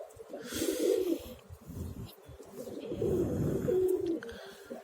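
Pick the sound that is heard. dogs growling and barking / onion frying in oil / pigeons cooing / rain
pigeons cooing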